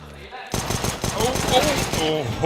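Automatic rifle fire in a Counter-Strike match at the ZOTAC Cup Masters 2018 grand final, with rapid bursts of shots crackling under continuous excited commentary.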